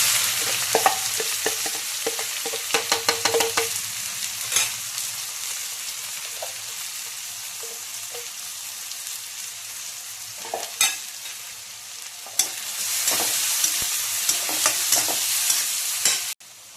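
Chopped onions tossed into curry leaves frying in a pan, with a loud crackling sizzle, scraping stirs and sharp clatters of the spoon against the pan, no talking.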